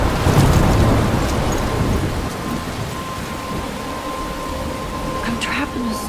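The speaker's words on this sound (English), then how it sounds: "I'm trapped in a storm?" Thunderstorm in the video game Life Is Strange, heavy steady rain with a deep rolling rumble of thunder, loud and enveloping near the coast.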